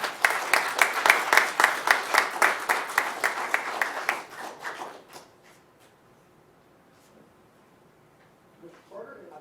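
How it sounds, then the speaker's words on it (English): Audience applause at an agricultural hall of fame induction ceremony held by a Kiwanis club, a dense burst of clapping from many hands that lasts about four seconds, then fades out, leaving a quiet room with a faint stir near the end. "Please join me in a round of applause."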